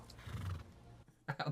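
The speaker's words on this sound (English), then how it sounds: "He's also got a good horse, I guess." A horse in a film neighs and whinnies faintly, one brief call followed by a louder burst near the end, heard alone at low volume.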